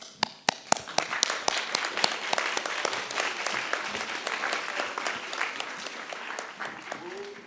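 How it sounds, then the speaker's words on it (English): Audience applause for candidates at a Riverbay board of directors election forum, a room of people clapping with sharp individual claps that settle into a steady patter and taper off, moderately close. "Please offer the applause to all the candidates"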